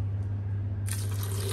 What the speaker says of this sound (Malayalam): 150 ml വെള്ളം.